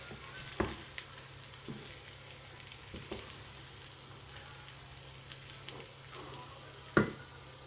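Khichuri of rice, lentils, potato and garlic frying in a pot, a faint, steady sizzle with a few soft clicks and one louder clatter near the end, close by with no talking.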